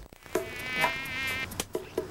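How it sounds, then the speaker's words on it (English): Mosquitoes buzz in a thin, high, wavering whine that swells and fades across about a second, with a few short soft thumps or slaps around it. "Ugh, mosquitoes."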